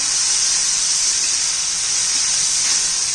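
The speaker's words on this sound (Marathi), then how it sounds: "मी गवार आणि वाटाणा स्वच्छ धुवून तेलामध्ये परतून घेत आहे" Guar beans and green peas sizzling in hot oil in a pan, a loud, steady, close hiss that holds unbroken throughout.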